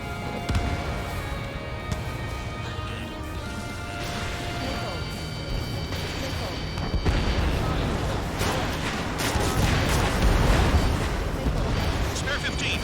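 A missile launches from a fighter jet in Ace Combat 7, followed by heavy booming explosions and rumbling roar. Radio voices talk over the continuous, loud action.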